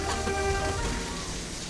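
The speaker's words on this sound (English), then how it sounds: "Now you might hear some rain in the background." Heavy rain falls in a steady broadband hiss that runs through the whole stretch. Faint tonal game music sits underneath it.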